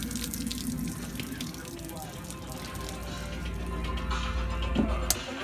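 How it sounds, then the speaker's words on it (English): A camper water pump runs on a 2019 RAM Rebel with a Palomino HS650 camper, water spitting and splashing out a drain line in a continuous rushing flow with a low pump hum beneath. "I turn on the water pump. Water pump running. It's spitting out the drain line."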